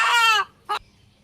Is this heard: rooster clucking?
yes